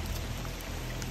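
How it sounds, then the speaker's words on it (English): Rain pours down steadily during a hike on Kauai, Hawaii, a dense continuous hiss of drops close by with no break. "as I'm going on the hike, it starts pouring down rain and I just decided to embrace it"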